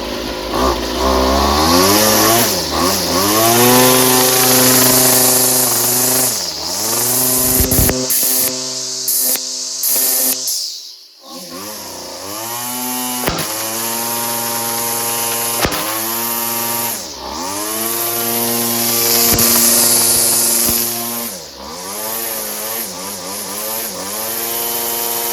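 Weedeater FL26 gas weed trimmer, a small two-stroke engine running close and loud, revving up and down repeatedly with a buzzing rasp, briefly dropping near idle before revving again.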